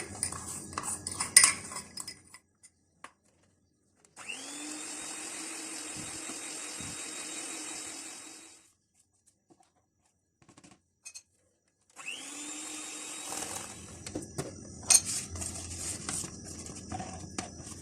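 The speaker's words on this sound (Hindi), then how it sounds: "मक्खन और चीनी को अब हम एक साथ इसको बीट कर लेंगे।" Butter and sugar are beaten together in a bowl for an oven-free chocolate and walnut cake, heard as two sustained stretches of whirring mixer noise separated by quiet, with scattered clinks of utensils against the bowl.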